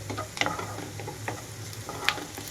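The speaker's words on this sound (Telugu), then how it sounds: "ఇక్కడైతే ఉల్లిపాయలు సాఫ్ట్ కలర్ నుంచి కొంచెం కలర్ మారే వరకు కూడా వేయించుకోవాలి" Sliced onions frying in oil in a pan for a curry-leaf chicken fry, a steady close sizzle broken by a few sharp scrapes and taps of stirring.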